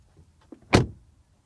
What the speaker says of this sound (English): Let's take a quick look at the door shutting sound.